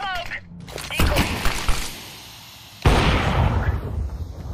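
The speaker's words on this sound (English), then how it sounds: "Throwing flashbang!" A flashbang grenade bursts in the game CS2, a sharp crack near the start followed by a ringing hiss, with a second loud burst later amid game noise.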